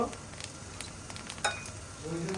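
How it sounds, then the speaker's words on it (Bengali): Diced potatoes frying with cumin seeds in hot oil give a steady, close sizzle, broken by a few soft stirring knocks and one sharper clatter midway. "তেল গরম হয়ে গেছে জিরে আমি আলুটা একটু ভেজে নিচ্ছি"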